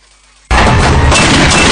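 During a film fight scene a sudden loud burst of gunfire cuts in after a short quiet lead-in, then goes on as a dense, sustained roar.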